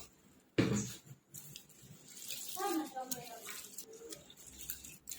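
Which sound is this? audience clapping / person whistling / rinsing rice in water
rinsing rice in water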